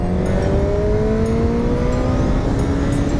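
A car's engine roars loudly and steadily with rising pitch as it accelerates, the exhaust drone filling the whole clip up close.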